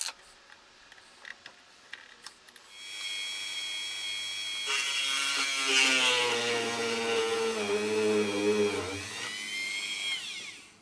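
A small power drill whines steadily for several seconds while drilling screw holes in a French-polished guitar, its pitch rising and wavering as it bites in, after a few quiet clicks and taps.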